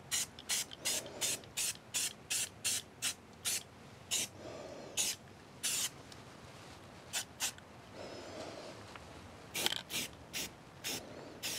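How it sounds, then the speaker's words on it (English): A spray paint can sprays onto a truck body to keep it from rusting: a series of short, sharp hissing bursts in an irregular rhythm, close up, with pauses between passes. "all I'm going to do is do the old spray paint just to keep this from rusting"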